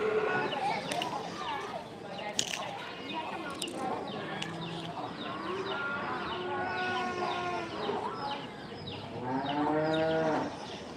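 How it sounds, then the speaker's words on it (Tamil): A cow moos loudly several times outdoors while chickens cluck nearby and people talk over the animal noise. "அந்த பக்கம் மாடு கத்துது"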